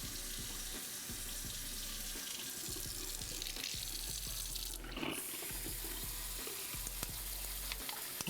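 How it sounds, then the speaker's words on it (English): Cold water runs steadily from a kitchen tap into a sink, a continuous close splashing rush with small clinks and taps scattered through it. "let's put some really cold water over. I'm gonna run it for a bit"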